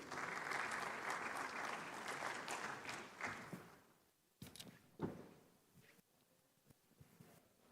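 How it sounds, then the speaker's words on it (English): Audience at a formal conference session claps for the moderator, a dense round of applause that fades out after about four seconds, leaving a few scattered knocks and bumps in the hall. "Please give her a warm round of applause"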